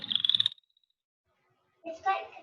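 American toad trill: one short, loud, close burst of rapid pulses about half a second long. After a pause, a brief voice-like sound follows.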